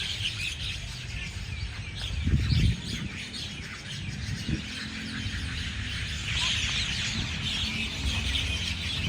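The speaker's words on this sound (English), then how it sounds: "How about those birds, huh?" Birds chirping around a clocktower in Lamae, Chumphon, Thailand, a busy chorus of high tweets and calls over low outdoor rumble, with a brief louder thump partway through.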